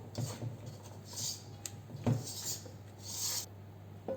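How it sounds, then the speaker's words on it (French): Muffin batter with baking powder stirred in a bowl, soft repeated scraping and rubbing strokes at an unhurried pace, close and fairly quiet. "On mélange à nouveau"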